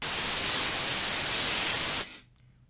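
A dense burst of harsh, frequency-modulated synth noise in FL Studio pulses in a couple of swells for about two seconds, then cuts off abruptly to near silence.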